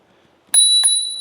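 A bicycle bell rings twice in quick succession, two clear metallic dings up close, the second left to ring out and fade slowly.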